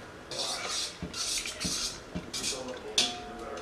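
Cake batter being mixed in a bowl for a birthday cake, with soft, uneven scraping and stirring strokes and a few sharper knocks of the utensil against the bowl, close by and moderately quiet.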